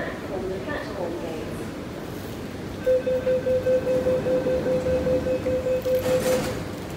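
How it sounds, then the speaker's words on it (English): A KCR East Rail train rolls out of Tai Wai station in Hong Kong with a steady rhythmic clatter and a sustained high tone, over a noisy station background with a voice speaking faintly. "First we'll wait for train to leave."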